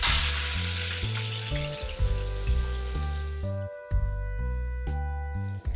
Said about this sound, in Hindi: तेल गरम हो चुका है, अभी हम इसमें फिश को शैलो फ्राई करेंगे